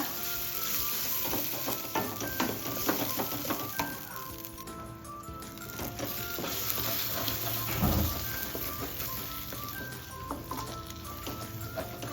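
Mutton and masala paste stirred in a frying pan, a steady loud sizzle with scraping and light metallic clinks of the spoon against the pan throughout.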